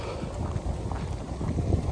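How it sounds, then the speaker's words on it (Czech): Strong wind blows at a castle, buffeting the microphone in rough, rumbling gusts that swell and ease, loud and close, with no talk. "A je fakt silný vítr"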